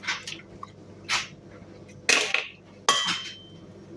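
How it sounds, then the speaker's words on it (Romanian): A few sharp cracks and wet splats close by, two eggs broken into a pot of water after boiling chicken wings, separated by short quiet pauses. "am vărsat apa, sparg 2 ouă"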